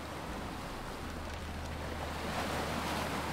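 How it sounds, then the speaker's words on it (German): Sea waves in the Gothic 2 mod game make a continuous low rushing surf over a faint steady hum, fairly quiet and unbroken, with no speech. "Es ist so laut, dieses Meeresrauschen."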